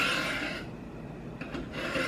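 Knife blade drawn in steady sharpening strokes across the abrasive plate of a Work Sharp guided sharpening system, a close dry rasping scrape that pauses briefly midway before resuming.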